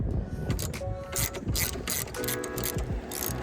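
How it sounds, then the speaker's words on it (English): Ratchet with a 7/16 socket loosening the self-propel adjustment bolt on a lawn mower, giving a run of close, rapid mechanical clicks in short bursts over a busy metallic background. "Ratchet, 7/16 socket."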